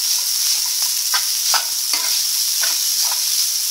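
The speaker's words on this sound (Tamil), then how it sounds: "நல்லா கிளறிக்கணும்" Cooked rice is stirred through a hot pan for coconut rice, with a soft continuous sizzle and repeated scraping stirs every half second or so, close up and without voices.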